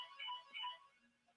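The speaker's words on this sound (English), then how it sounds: "And that's the phone. I can't get to it." A telephone rings faintly in the background of a talk radio studio, two short electronic trills in a quick pair, distant and thin, with no talking over it.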